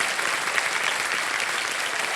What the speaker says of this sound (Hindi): एक बार फिर तालियों के साथ शरद जी आपका स्वागत